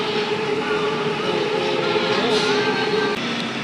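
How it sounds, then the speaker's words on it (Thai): An electric train passes in Thailand, a continuous rumbling roll with a rising and falling whine and faint wheel squeal, heard moderately close with no talking. "รถไฟฟ้าวิ่งมาอีกแล้วนะครับ"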